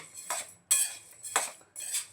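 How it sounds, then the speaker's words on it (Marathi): Wheat grains being stirred and turned in a hot kadhai for roasting, four distinct scraping clinks of the utensil against the metal pan in an irregular rhythm, close and fairly loud, with no talking. "पण कंटिन्यू गहू हलवत राहा"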